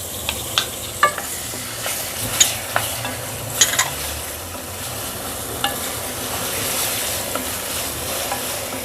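Tomatoes and green chillies fry in a pan for palak chana dal, a continuous close sizzle broken by scraping stir strokes and light clinks, clustered early and thinning out later.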